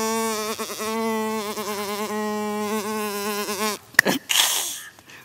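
A human voice imitates a housefly's buzz: a nasal, wavering drone lasting several seconds, swooping in pitch, then breaking off into short breathy noises at the end.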